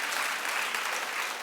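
Audience applause rises as a short, dense burst of clapping from a crowd, steady and fairly close, with no voices over it.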